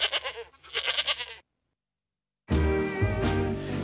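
A goat bleats in a short burst of wavering, nasal cries, fairly close and alone. It is followed by a pause of silence and then music starting up.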